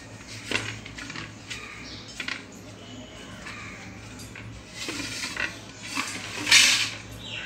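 Ghee rubbed onto a plate in a Malabar kitchen while making unnakkaya, with scattered clinks and scraping taps of metal utensils against dishware, a few louder knocks, under quiet room noise.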